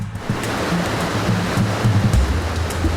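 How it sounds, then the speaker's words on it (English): The Rheinfall, a large river waterfall on the Rhine near Schaffhausen, roars as a dense, steady rush of water with low churning surges, loud and close, with no voices. "The Rheinfall, the largest waterfall in Europe."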